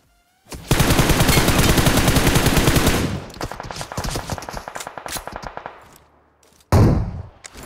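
Heavy gunfire erupts in a video game: a loud, sustained automatic burst, then a looser stream of rapid shots that tapers off, a brief silence, and one more loud close burst at the end.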